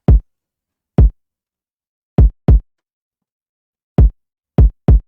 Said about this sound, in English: So this is how my kick sound like.